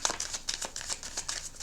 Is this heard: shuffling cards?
yes